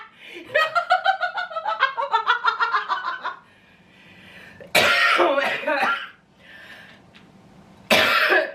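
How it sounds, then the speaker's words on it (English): A run of rapid hacking coughs, then after a quiet pause two more loud, harsh coughs close to the microphone. "Sorry about the cough."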